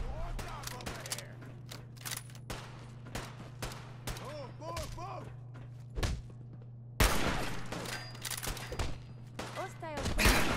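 Bursts of video game gunfire in Fallout 4, a rapid volley of loud cracks and thuds firing repeatedly over a steady low hum, with voices and game chatter in between and a heavier barrage near the end.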